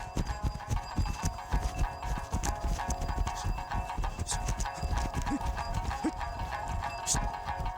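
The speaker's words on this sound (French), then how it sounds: "Au trot ou au pas, le cheval lève en même temps les deux jambes du même côté." A horse's hooves clip-clop in a quick, steady ambling rhythm, legs on the same side lifting together, on hard ground, close and continuous, with a faint ringing tone in the background.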